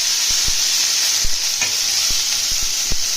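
Eggplant frying in a hot pan with dried red chilli and crushed garlic for a Bengali bhola fish curry: a steady broad sizzle with several sharp clacks of a spatula stirring against the pan, close and without talk.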